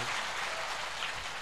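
An audience at a religious discourse claps hands together, a dense, continuous round of applause heard briefly and fairly close.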